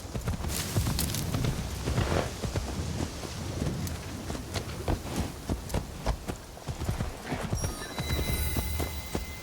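Horse hooves clip-clop at a walk in Assassin's Creed Shadows near a Shinto shrine, a close, irregular run of hoof knocks over a light background bed, with a brief bright chime near the end.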